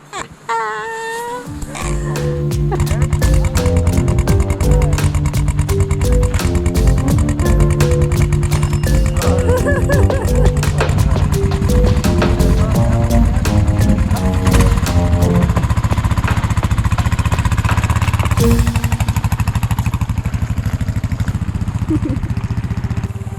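A motorcycle engine, on a bike stranded in the Alaskan wilderness, starts up and runs loud and close with a steady rough idle and throttle blips while a passenger climbs on behind the rider.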